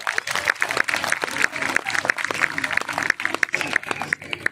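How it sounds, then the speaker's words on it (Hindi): A comedy show audience claps loudly and steadily in a quick rhythm, with voices mixed in among the applause. "हाथ खड़े करो और जोरदार तालियां बजाओ"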